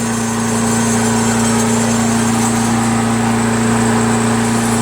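A Craftsman lawn mower's 6HP Briggs & Stratton Quantum engine runs steadily up close, a loud, even droning hum with no change in pace.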